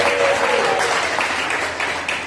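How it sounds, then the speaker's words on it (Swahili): A church congregation claps and ululates during a sermon, a loud sustained burst of applause with high trilling cries over it that fades slightly toward the end. "Unaweza kumchapia Yesu makofi na vigelegele."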